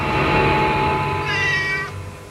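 A domestic cat meows once, a loud, close, drawn-out tonal call lasting about two seconds that rises and then trails off.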